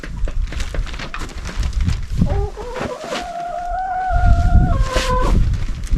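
Chickens in a covered winter pen wrapped in tarp, giving a few drawn-out crowing or squawking calls over rustling background noise, close by with no talk.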